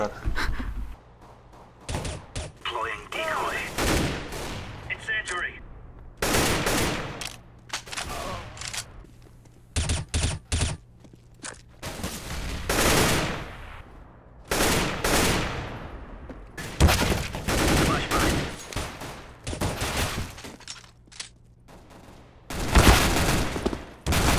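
Rapid bursts of shooter video game gunfire, some sustained like automatic fire and others single shots, punctuate the clip loudly from start to finish, with players talking between and over the volleys.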